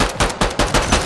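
Gunfire in the video game Fortnite, a rapid run of loud, punchy shots coming in about five quick bursts over a second, close and dense with no voices.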